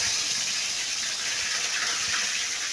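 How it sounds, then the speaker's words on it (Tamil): Fennel seeds and curry leaves sizzle in hot oil in a kadai, giving a steady, bright hiss that runs without a break from start to finish, close and fairly loud, with no talking over it. "கடாயில் எண்ணெய் ஊற்றி கொஞ்சமாக சோம்பு போட்டு கருவேப்பிலை கொஞ்சம்"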